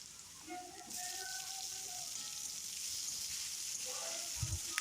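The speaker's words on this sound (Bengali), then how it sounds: "টমেটোটাও তেলের মধ্যে ভালো করে নাড়াচাড়া করে নেব" Chopped tomato and onion fry in hot oil for a Bengali fish and potato curry, giving a steady close sizzle with a few soft stirring scrapes and a brief low knock near the end.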